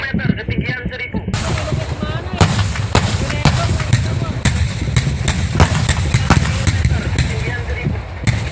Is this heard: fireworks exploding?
yes